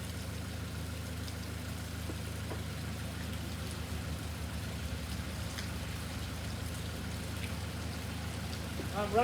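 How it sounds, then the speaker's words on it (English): Steady rain pours down outdoors, a dense constant patter with a low idling engine hum underneath, with a few faint clicks near the end. "Shooting in the rain."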